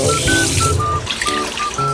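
Tap water running into a sink to rinse noodles, a close, steady splashing stream with gurgling and shifting pitch as the container fills.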